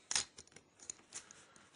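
Clay poker chips riffled together by hand in an interleaving shuffle, giving a sharp burst of clicking at the start followed by several fainter, scattered clicks, quiet and close with no talk.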